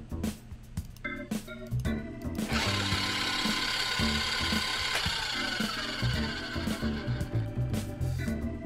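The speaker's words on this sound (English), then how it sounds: "Now we'll just go ahead and whisk that together." Ingredients are whisked together in Cooking Simulator, a busy clattering, ratchet-like scraping that swells to a steady rapid churn in the middle, then breaks into scattered knocks and clicks.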